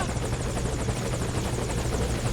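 A helicopter in the Metal Gear Solid V: Ground Zeroes video game, its rotor thumping in a steady rapid beat with loud continuous engine roar throughout.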